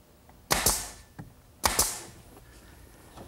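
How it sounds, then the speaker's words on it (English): A brad nailer drives 1-inch brads into redwood lattice on an arbor, giving two sharp pneumatic snaps about a second apart, each followed by a hiss and a smaller mechanical click. "I'll attach it in place using some 1-inch brads"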